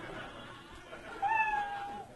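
A single short cat meow sound effect rises briefly near the end over a low murmur of a comedy show audience.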